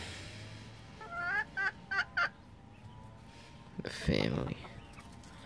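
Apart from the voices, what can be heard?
backyard chickens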